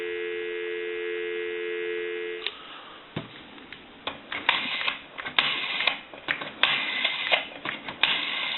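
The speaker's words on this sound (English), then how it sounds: "Go ahead and give you some dial tone." A Northern Electric Galion rotary desk telephone gives a steady, even dial tone for about two seconds. It cuts off and gives way to a run of sharp, irregular mechanical clicks and taps.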